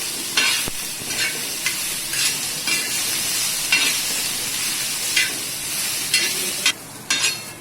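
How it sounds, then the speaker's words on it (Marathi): Onion frying with salt in a pan, a continuous loud sizzle broken by regular scraping stirs at roughly one-second intervals, close and without talk. "कांद्यात थोडंसं मीठ टाकून घेऊया कांदा पटकन छान भाजला जाईल"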